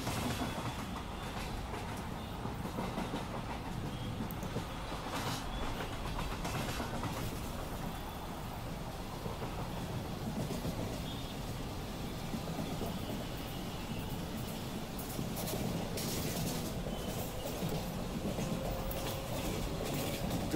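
Two Churchgate–Borivali local trains in Mumbai, one fast and one slow, running side by side, with a steady rumbling roar and rhythmic clatter of wheels on rails, loud and continuous.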